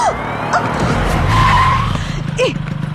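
A two-wheeler braking suddenly with a sharp tyre skid and squeal, a short screech over engine noise, followed by a brief voice.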